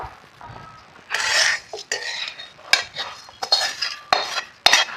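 Fried lachha being stirred into milk in a home kitchen pot, with a spoon clinking and scraping against the metal in repeated bursts, close and fairly loud, with no talk.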